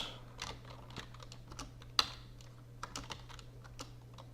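Typing on a computer keyboard, quick irregular key clicks with one sharper tap, soft and close over a faint steady hum, no voices.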